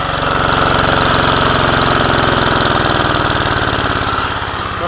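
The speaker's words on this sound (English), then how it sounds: "I got my grid tie generator running that I built" A homemade grid-tie generator's small engine runs loud and close, a steady, rough, pulsing drone with a throbbing firing rhythm that holds without a break and no talk.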